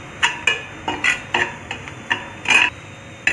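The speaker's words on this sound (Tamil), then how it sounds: "இது வந்து வதக்கி விட்டுக்கோங்க." A spatula stirs and scrapes onions sautéing with chili, coriander and turmeric powder in a pan for a Chennai-style vada curry, giving a series of sharp, close, irregular clicks and scrapes with short pauses between them.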